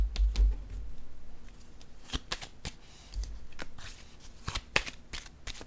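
Tarot cards are shuffled close by in quick, irregular riffles and soft slaps that keep going throughout, with light thumps of handling and no talk.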